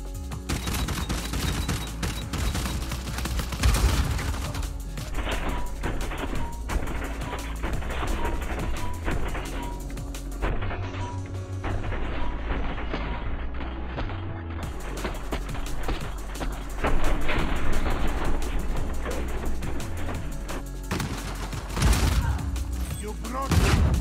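Sustained gunfire in the Uncharted 4 video game, dense rapid shots and booms running nearly throughout at close range, with occasional talking over the top.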